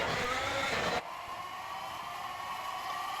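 Logan Sargent's Formula 1 car racing at the Spanish Grand Prix, a loud sustained engine roar that drops sharply to a steadier, quieter whir, with no talk.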